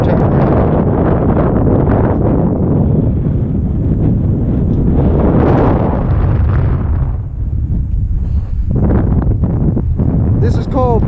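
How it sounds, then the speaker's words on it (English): Strong wind buffeting a microphone outdoors on an exposed hill, loud and continuous roaring rumble with gusty surges throughout, close and dominant, with a brief high tone near the end. "Trying to keep you out of the wind."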